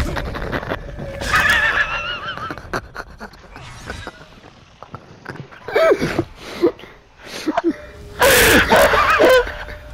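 A horse in a video game whinnies loudly in several bursts, mixed with snorts, pants and clip-clopping hooves, close and with no talk over it.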